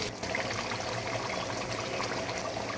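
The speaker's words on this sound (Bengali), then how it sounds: "পরিমাণ মতো পানি দিয়ে দেব।" Water is poured into a pot of beef bhuna cooking on the stove, making a faint, steady, hissing trickle that lasts throughout.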